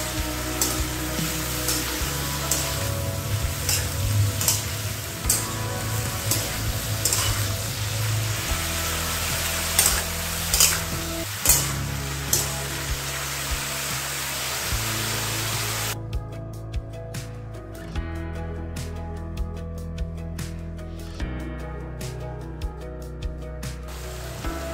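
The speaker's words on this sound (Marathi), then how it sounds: "दोन ते 3 मिनिटं आपल्याला तेलावर वांगे परतून घेणार आहे।" Brinjal pieces frying in oil for a Marathi vangyachi bhaji, a continuous close sizzle with repeated spatula taps and scrapes against the pan, partly under a low hum, no speech.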